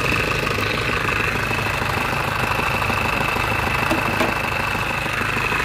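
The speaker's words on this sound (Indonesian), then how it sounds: "Ini untuk bagian mesinnya teman-teman." A 2.5-litre engine in a 1997 Isuzu Panther Grand Royale runs at a steady idle, with a continuous close, loud rumble and a fine, even diesel-like knock and no speech.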